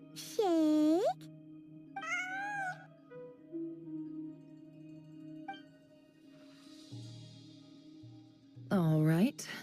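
A video-game cat meows a few times, its high, bending calls rising and falling at the start and end, with quieter game tones and effects in between.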